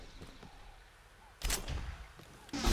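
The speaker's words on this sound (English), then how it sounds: "We'll use the Overseer to again bombard Tiangong." Orbital bombardment from the Overseer striking the city of Tiangong in Civilization: Beyond Earth, with two sharp blasts landing about a second apart over quiet background ambience.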